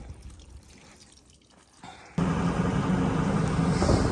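Water from an aluminum pontoon under repair: a quiet, faint trickle at first, then a sudden louder, steady rushing pour of water that continues to the end.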